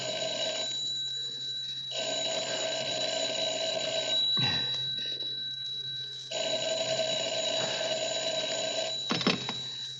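An old-time radio murder-mystery drama plays a telephone bell ringing in repeated bursts with short pauses, loud and close, with no talk over it.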